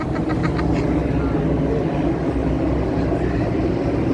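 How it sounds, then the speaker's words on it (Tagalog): An airplane drones overhead as a continuous broadband rumble, steady and fairly loud throughout, with no clear voices. "Haniko, your airplane's coming."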